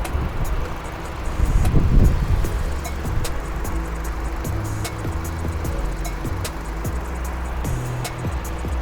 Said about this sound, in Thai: ตอนนี้เครื่องสตาร์ทอยู่นะคุณผู้ชม